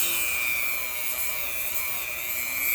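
A Dremel fitted with a 60 grit pad polishes petrified wood, giving a steady high-pitched whine with a gritty rubbing hiss that stays constant and close throughout.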